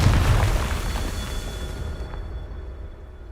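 Confringo blasting spell explosion in the Hogwarts Legacy game, a loud booming burst that hits at once and rolls off into a fading rumble over about three seconds, with no voices.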